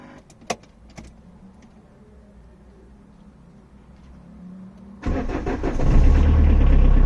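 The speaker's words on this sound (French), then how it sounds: "maintenant la voiture démarre" A Renault Kangoo D65 diesel engine turns over and catches after a quiet stretch with a couple of faint clicks, then settles into a loud, rough, steady idle close by.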